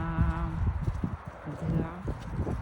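Horses walking toward the camera over snow, hooves clip-clopping in an uneven rhythm close by while someone talks over them.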